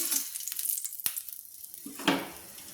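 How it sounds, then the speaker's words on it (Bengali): Potatoes fry in hot mustard oil in a kadai, the first step of a rohu fish curry with cauliflower. A close, steady sizzle crackles throughout, broken by a sharp stir or clack of the utensil and then a fresh hiss. "ফুলকপি দিয়ে রুই মাছের ঝোল করার জন্য আমি প্রথমে আলুটাকে ভেজে নেব"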